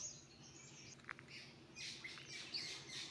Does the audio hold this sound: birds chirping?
yes